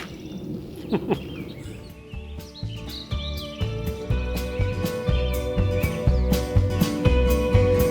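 Bird calls close by, sharp chirps and tweets repeating in bursts over a steady bed of insect and cricket buzzing, with a layered, busy texture throughout.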